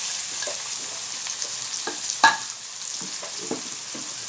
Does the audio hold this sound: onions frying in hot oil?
yes